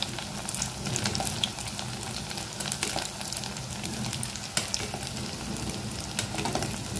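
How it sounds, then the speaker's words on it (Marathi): Aloo paneer kofta balls frying in hot oil over a medium flame, giving a steady, dense sizzle and crackle that runs throughout with small pops, close and fairly loud, with no talking. "मीडियम फ्लेमवरतीच कोफ्ते सगळे असे गोल्डन ब्राऊन होईपर्यंत फ्राय करून घ्यायचे"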